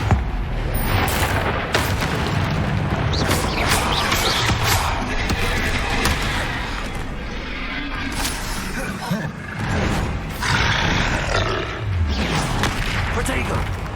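Confringo fire spells from Hogwarts Legacy burst as dull booms within dense, continuous combat noise, with a voice talking over the action throughout.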